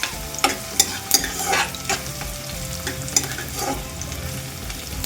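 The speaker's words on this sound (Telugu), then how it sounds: "సో అందుకే ఆనియన్స్ని ఎప్పుడైనా ఫ్రై చేసేసుకుంటే బాగుంటుంది" Onions fry in a pan for an egg dum biryani, giving a steady broadband sizzle. Several sharp clicks and scrapes from stirring sound close by, with no voices.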